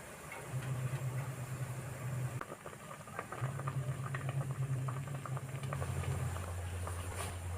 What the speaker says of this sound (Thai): ต้มจนกว่าว่าเห็ดกับถั่วฝักยาวจะสุกดีนะคะ